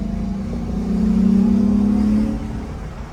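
A 2014 Lexus IS 250 F Sport at a wholesale auction revs through its exhaust. The steady mid-pitched engine note swells and holds for about a second, then eases back, close and fairly loud with no talking.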